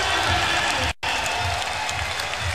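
A Street League skateboarding championship crowd applauds and cheers in a loud, dense wash of clapping and shouts. A brief gap cuts in near the first second, then the noise carries on.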